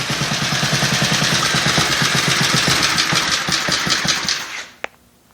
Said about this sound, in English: Something about an engine that's running, you know.